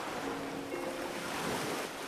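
Sea waves wash against the shore with a steady, fairly soft rush of surf and wind, continuous for about two seconds and with no voices.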